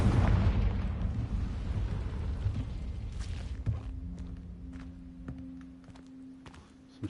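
A Confringo blast spell goes off in Hogwarts Legacy. A loud, rumbling low-end explosion opens the clip and fades over several seconds, followed by quieter game ambience and a few soft thuds, with no talking.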